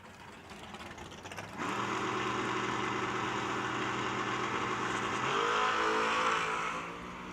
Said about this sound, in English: Mustang off and away. Here comes the Chevy.